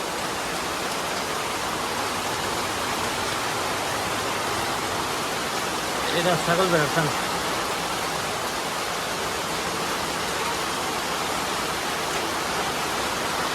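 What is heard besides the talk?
rain falling at a goat farm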